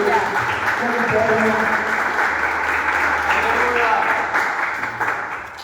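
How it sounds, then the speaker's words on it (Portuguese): Sustained applause from a church congregation, steady and full throughout, with voices mixed in, tapering slightly at the end. "Palmas ao Senhor Jesus"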